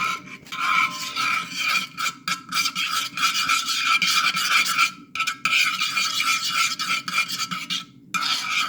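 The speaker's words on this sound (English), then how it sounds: "And we're going to stir it." Ketchup stirred in a bowl, rhythmic rasping scrapes of a utensil against the bowl in quick repeated strokes with brief pauses, close and alone without talk.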